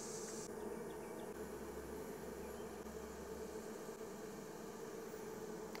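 Honeybees hum in a steady, dense buzz throughout, like a close swarm in flight near a hive, with no voices.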